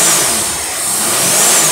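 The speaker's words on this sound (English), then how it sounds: "Right now the dyno is off, so we'll give it a free rev here." Engine fitted with a Holley 600 cfm carburetor free revving on a stationary dyno that is switched off, a loud, close, continuous roar that dips slightly and climbs again.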